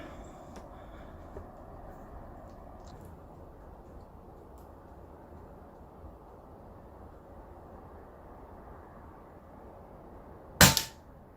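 An Arken Zulus scope on an air rifle, with a single sharp pellet shot near the end, loud and brief against a steady low background hum.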